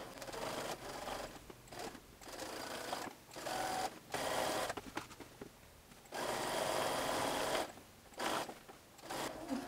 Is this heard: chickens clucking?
no